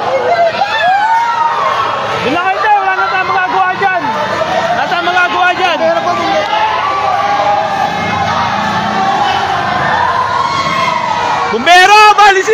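Fire engine sirens wail repeatedly at a neighbourhood fire in Sitio Fatima Valley, Parañaque City, rising and falling loudly through an agitated crowd while people shout nearby.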